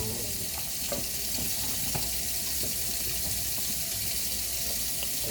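Hot water runs steadily from a kitchen tap, a constant full-band rush with faint clinks of a cup beneath it, close and uninterrupted throughout.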